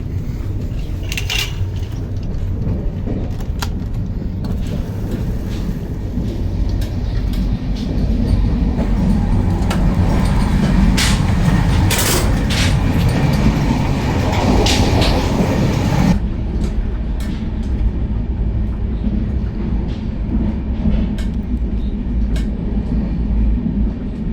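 A moving train carriage on a Mumbai journey, likely the Konkan Kanya, gives a steady, loud rumble with rattling and clatter throughout; the roar swells midway, then settles to a lower, even drone.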